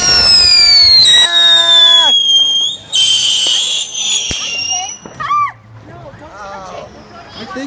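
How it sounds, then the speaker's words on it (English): Spinner fireworks shriek loudly close by, rising and falling whistles overlapping with crackling bursts, then trailing off into shorter warbling squeals. "We're gonna be doing quite a few fireworks today"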